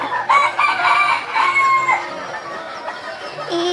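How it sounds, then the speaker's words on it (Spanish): Roosters in a village crowing loudly and close, with long drawn calls mixed with clucking from several birds, filling the whole stretch. "super lleno de gallos"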